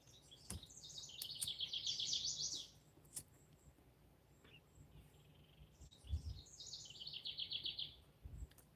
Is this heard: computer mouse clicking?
no